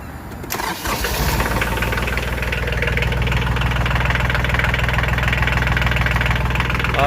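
A Daedong L3301 tractor's diesel engine cranks and catches, then settles into a steady, loud, close-up idle with an even low rumble that continues to the end.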